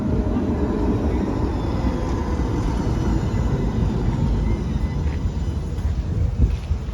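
A tram in Budapest, Hungary rumbles steadily past nearby, a continuous low mechanical roll with faint squeals over the rail noise.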